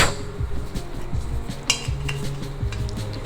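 A metal pressure cooker lid clanks and scrapes into place on a pot of thinai ven pongal, with several close, bright metallic knocks and rattles alone in a kitchen.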